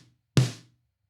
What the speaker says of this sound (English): I use this dry sample